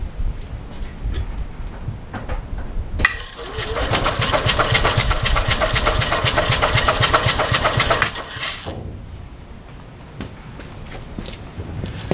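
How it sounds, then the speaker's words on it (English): An Invacar engine is cranked on its starter with the throttle held wide open, making a loud, rapid, rhythmic chugging for about five seconds before stopping, preceded and followed by quieter background noise. "I've got to go and operate the starter and hold the throttle wide open."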